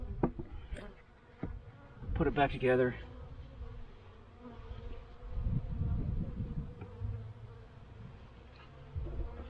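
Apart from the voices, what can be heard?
honeybees buzzing in a winter hive box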